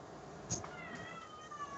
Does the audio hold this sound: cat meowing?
yes